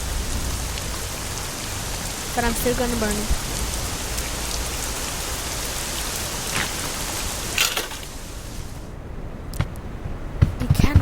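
Steady rain hisses from a smoke detector inside the Little Inferno fireplace game, a dense, even patter under intermittent talking, with a few sharp clicks and a drop-off near the end.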